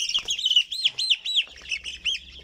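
A young chick chirps repeatedly during vaccination, shrill rising-falling peeps coming close and clear in a quick, uneven series with no voices over them.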